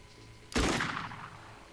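A single burst of suppressive gunfire in the Xenonauts strategy game, a sharp loud crack around the half-second mark that rings and fades over about a second, with no talking.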